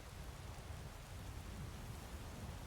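Steady rain pours over Whiterun in Skyrim, overflowing the stone street grates; a dense, even wash of close rainfall fills the whole stretch with no gaps and no voices.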